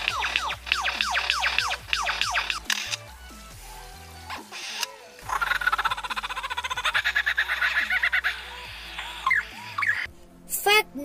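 A lyrebird sings loudly and close by, with rapid varied chirps, squawks and odd mechanical-sounding mimicked noises, broken by short pauses.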